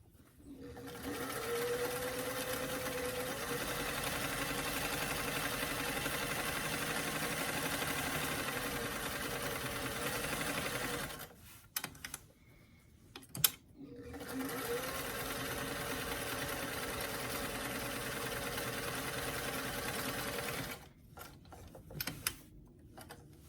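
A sewing machine stitches a zigzag along a fabric edge in two long, even runs of rapid mechanical whirring, each cut off by a brief pause with soft handling clicks.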